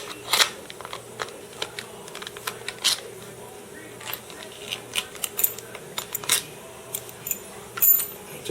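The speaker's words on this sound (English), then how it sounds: "Take the bolts out." Small metal clicks, clinks and rattles of bolts being taken out of a Husqvarna Honda lawn mower that won't start, scattered irregularly and close by over a faint steady background hum.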